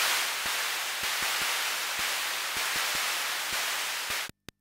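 Steady broadband hiss from the noise mode of a Thomas Henry Mega Percussive Synth, loud and continuous with faint regular clicks, cutting off abruptly near the end.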